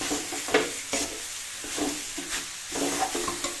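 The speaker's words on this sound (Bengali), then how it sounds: "এই হাতা 2 হাতা গুড় দিয়েছি, নাড়াচাড়া করে মিলিয়ে নেব।" A ladle stirs jaggery in a hot pan, giving scraping, swishing strokes in uneven bursts over a soft background sizzle, close and moderately loud, with no talking.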